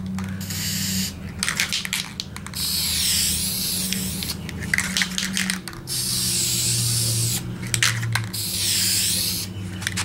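An aerosol can sprays tint paint onto car lights in several long hissing bursts separated by short pauses, close by, with a low hum underneath.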